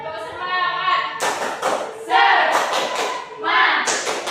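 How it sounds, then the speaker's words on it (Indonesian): Primary schoolchildren in a classroom doing the tepuk semangat rhythmic clap, bursts of patterned clapping and chanting voices following a spoken cue. "Tepuk semangat."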